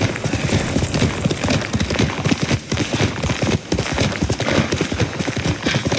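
Rapid hoofbeats of a galloping horse in the video game Ghost of Tsushima pound steadily and loudly, close up, with a brief dip midway.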